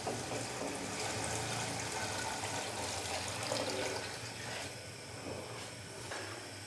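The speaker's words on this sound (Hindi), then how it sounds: "अभी मैं इसके अंदर डाल दूंगा यखनी" Mutton yakhni stock being poured into a pot for pulao, a continuous watery splashing and trickling at moderate level with no talk.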